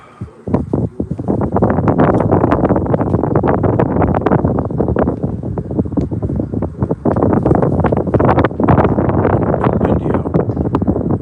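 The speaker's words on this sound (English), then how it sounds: "Windy out." On a warm, windy day, wind buffets the microphone in loud, choppy gusts, a dense rumbling roar with brief dips between blasts that runs almost unbroken.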